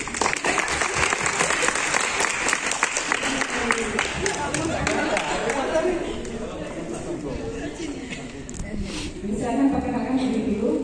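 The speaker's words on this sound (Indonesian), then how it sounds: "Tepuk tangan." An audience at a university statistics outreach session in Pasuruan claps, a thick burst of applause that thins out about halfway as murmured talk and voices take over beneath and after it.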